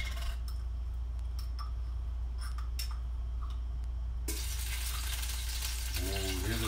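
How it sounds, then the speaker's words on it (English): Frying-pan sizzle with scattered ticks and clinks, then a sudden bright hiss as minced garlic hits the hot oil and sizzles loudly. "And here's a sizzle."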